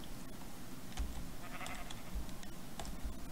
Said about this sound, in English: Let me get a couple of sheep.